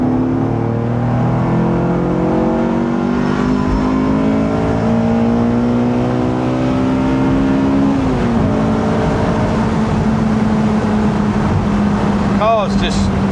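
A Honda S2000 engine climbs steadily in pitch as it revs toward VTEC while driving, a loud droning howl from inside the car that drops once around the shift and then carries on under road noise.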